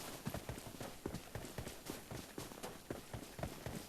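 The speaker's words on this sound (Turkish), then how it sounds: "Ayak sesi." Running footsteps in the PUBG Mobile video game on the Vikendi map, a fast, regular thudding patter close by and fairly loud, continuing steadily throughout.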